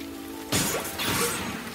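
Cartoon chocolate rain falls: a sudden loud splashing burst, then a steady pattering wash like a heavy downpour on surfaces, continuing without speech.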